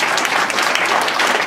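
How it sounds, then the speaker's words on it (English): Steady, dense applause from guests clapping for the children at a 100th birthday party, continuous and fairly loud for the whole stretch with no break. "Please, hand of applause to the children,"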